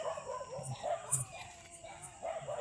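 A dog on a farm gives short yips and whimpering barks in scattered bursts, fairly close, mixed with people talking over it.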